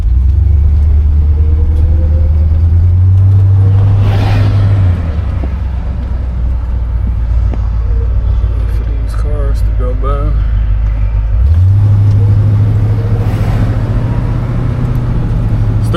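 A 1972 Buick Skylark's 450 engine revs up twice, rising in pitch with a low rumbling drone between pulls, heard from inside the vehicle.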